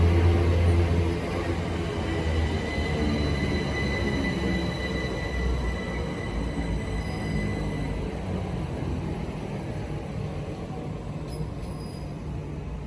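A Great Western Railway train on the London Paddington to Hereford service runs through Pangbourne station, a loud, continuous rumble of wheels on rails with faint high squealing, sustained throughout and easing slightly toward the end.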